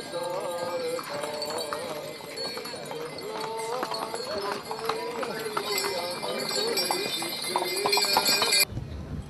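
Horses at an Epiphany horse competition in Ciulnița, Romania, with hooves clip-clopping and snorting heard through steady crowd chatter and a voice talking, moderately loud and continuous before the sound cuts off abruptly at the end.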